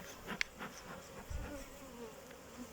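Honeybees buzz softly around an opened first hive as smoke is used on them, a faint steady drone with a few nearer passes of individual bees.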